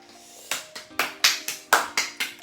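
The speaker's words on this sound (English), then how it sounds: "Clap for her" A small group claps in an uneven series of sharp, close hand claps that come in quick bursts for a couple of seconds, with no talking.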